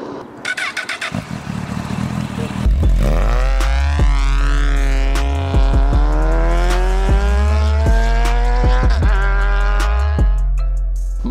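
A motorcycle starts up and accelerates hard through several gears, engine pitch climbing repeatedly with brief dips at each shift, loud and close throughout without talk.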